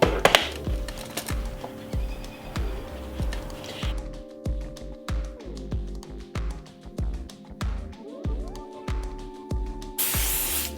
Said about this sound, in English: Make sure your last step is to spray and blow dry.